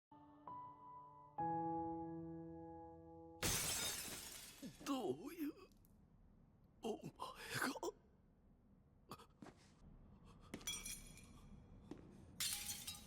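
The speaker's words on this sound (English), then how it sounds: "Shattered reality." A dramatic shattering effect from the Jujutsu Kaisen anime: a sustained musical tone gives way to a loud burst of breaking glass, followed by scattered crunching shards and clinks, with brief vocal sounds in between.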